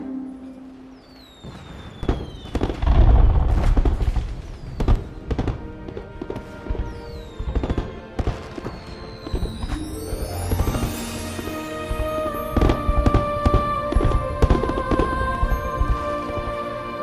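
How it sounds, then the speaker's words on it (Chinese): Fireworks from Dongshan Tower burst in a rapid, uneven string of loud cracks and booms, with whistling rises and fizzing crackle continuing throughout. "这是东山楼的烟花，但却只能在太和楼看。"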